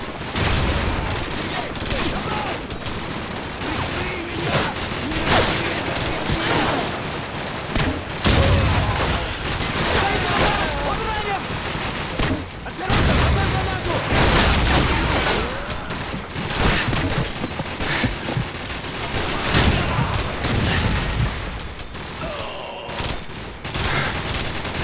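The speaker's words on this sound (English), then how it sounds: "Sir, we've got company. Helicopter troops closing in fast." Continuous gunfire in the video game Call of Duty 4, dense bursts and rapid rattling shots with occasional booms, loud and busy, with soldiers' voices talking over the fighting.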